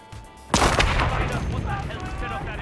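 Explosion in the Hitman video game, one sudden loud blast half a second in that decays into a rumbling, crackling tail, with a quieter stretch of game ambience before it.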